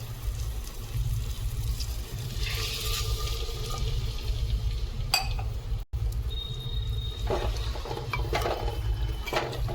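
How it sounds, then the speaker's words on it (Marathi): Water is poured into spice-coated prawns in a pan for a village-style prawn curry, a soft splashing trickle over a steady low hum with a few clinks, and no one speaking. "आता आपण पाणी घालूया याच्यामध्ये."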